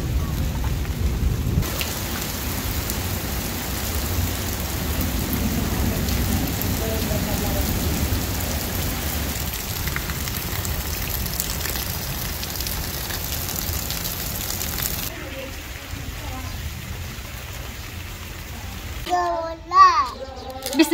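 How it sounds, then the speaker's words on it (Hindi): Heavy rain pouring down in a village setting, a dense continuous hiss with low rumbling beneath, fairly loud throughout; a voice and other speech break in near the end. "अभी आहिस्ता आहिस्ता जो है वो बारिश तेज़ होती जा रही है।"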